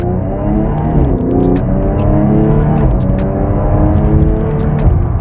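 Engine of a 2015 Jaguar F-Type revving loudly and close up, rising and falling through several throttle blips and short shifts, a rich rumbling roar with no talking over it.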